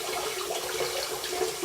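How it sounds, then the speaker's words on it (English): Hot water sloshing and swirling in a bathroom sink while a shaving brush and razor are warmed, a steady close splashy wash with no voices. "Little swirl in the sink to bring it up to temperature."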